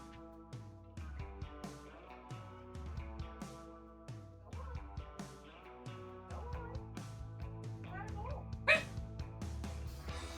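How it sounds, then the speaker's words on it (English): A puppy just let out of a room yips and whimpers in short repeated bursts, fairly close, over a constant tonal background with faint talk. "Puppy has been let out of the room."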